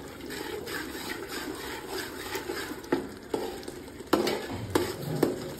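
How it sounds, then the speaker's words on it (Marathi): Biryani ingredients are stirred in a pot, heard as a soft continuous sizzle broken by several sharp scrapes and clanks of a utensil against the metal, close and moderately quiet, with no voices. "आणि हलवून घ्यायचं."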